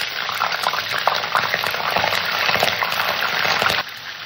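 Chopped onion goes into hot oil already frying two cardamom pods, giving a steady, fairly loud sizzle with crackling pops throughout that eases slightly near the end.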